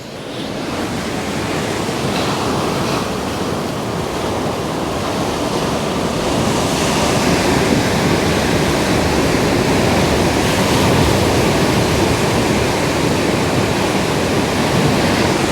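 Heavy ocean surf breaking at Coogee Beach, Sydney, during an East Coast Low storm: a loud, continuous roar of crashing waves and wash that builds slightly partway through, with wind noise throughout and no speech.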